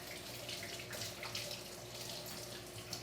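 A faucet runs steadily into a sink as soap is rinsed off a child's hands, a soft continuous splashing stream with no voices.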